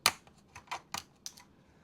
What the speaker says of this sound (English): You just push down and it clicks right in